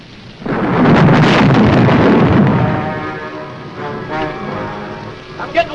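Heavy rain and a thunderstorm in an old horror movie, a loud rolling rumble of thunder over steady downpour that eases into softer pattering rain with faint tonal background sounds.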